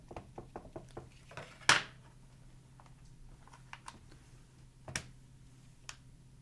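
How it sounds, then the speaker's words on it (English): A rubber stamp is pressed onto paper during card crafting, giving one sharp thump with a rustle. Scattered soft taps and clicks of handling fall before and after it, and a second distinct knock comes later. "I will stamp the bottom part. So stamp that,"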